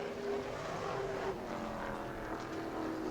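Brad May's number 9 Pro Late Model race car drones continuously on a qualifying lap at New Smyrna, its engine note fairly faint and distant, with no talk.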